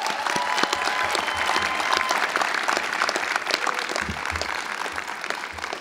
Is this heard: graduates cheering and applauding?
yes